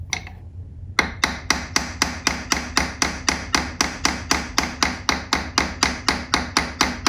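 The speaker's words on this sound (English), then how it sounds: "chasing hammer" Sharp metallic taps of a chasing hammer flattening a metal rivet on a jewelry hinge, struck in a fast, even rhythm of roughly three blows per second after a brief quiet start, close and ringing.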